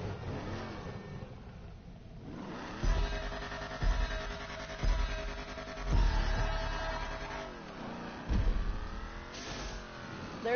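A red race car in a video game revs and accelerates repeatedly, its engine climbing in loud, close surges with sharp gear-shift drops between them, alone without talk.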